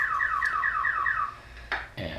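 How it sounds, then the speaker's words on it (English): A home alarm system being disarmed gives a run of repeated electronic chirping beeps, then two short louder tones near the end, heard alone at moderate level over a steady background hum. "better turn off the alarm system here."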